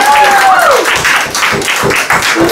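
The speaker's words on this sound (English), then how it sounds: "Okay, another huge round of applause." Loud, close clapping breaks out from the audience at a poetry slam. The claps come as a dense, uneven burst, with a voice calling out over the start.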